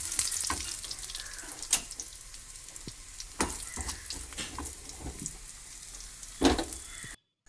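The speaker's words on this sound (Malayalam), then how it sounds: "അപ്പോൾ അത് നമ്മൾ വെളിച്ചെണ്ണയിലിട്ട് വറുത്തെടുക്കണേ." Dried red chillies fry in hot coconut oil with curry leaves, giving a steady close crackle and sizzle punctuated by a few sharp pops and clatters, with no talking.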